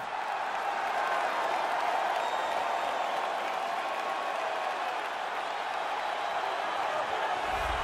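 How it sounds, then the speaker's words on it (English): Arena crowd at a UFC Fight Night welterweight bout roars and applauds steadily as a fighter walks out, a dense, loud sustained cheer filling the whole space without a break. "what a pop from the crowd as this guy makes the walk"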